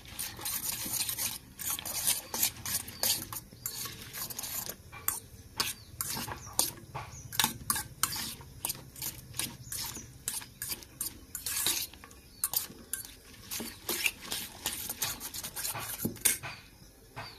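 Metal utensil scraping and stirring food in a hot pan in a Sundarban village kitchen, rapid irregular rasping strokes over a soft sizzle, close and fairly quiet with no talking.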